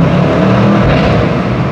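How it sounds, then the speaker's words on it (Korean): Loud, close exhaust note from a BMW M850i Gran Coupe under a gear change, a steady engine drone with rough crackling pops running through it. "어우, 팝콘 소리가 엄청 잘 터지네요"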